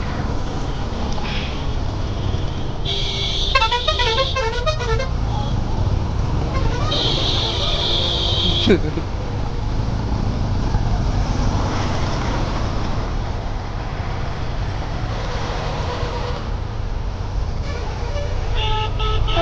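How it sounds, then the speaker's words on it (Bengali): Car horns honk in several blasts, some long and some in quick stuttering bursts, over a constant low rumble of nearby traffic, with voices faintly underneath. "কাণ্ডুদের মতন হর্ন দিচ্ছে কোনো কারণ ছাড়া"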